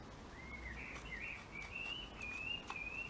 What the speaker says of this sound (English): I'm listening to the birds again